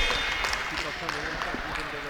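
Members of the sports teams cheer and clap at the end of a university netball match as the players shake hands. It is a steady, fairly faint wash of crowd noise with a voice speaking over it.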